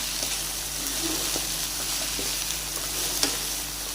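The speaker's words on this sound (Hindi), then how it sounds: "इसको हम 2 मिनट तक अच्छे से रोस्ट करेंगे ताकि हमारी बंद गोभी में कच्चापन ख़त्म हो जाए" Shredded cabbage and capsicum stir-frying in a hot pan, a steady close sizzle with faint scraping stirs and a sharper clink near the end, no voices.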